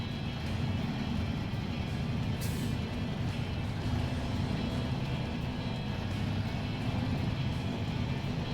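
A truck in SnowRunner grinds along a rutted road, its engine a steady low rumble throughout, with a brief hiss partway through.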